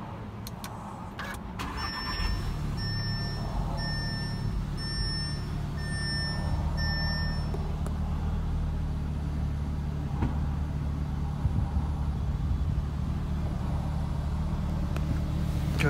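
A 2015 Audi S3 is started with the push button: a series of electronic chimes sounds first, then the engine cranks and settles into a steady, close idle hum that continues to the end.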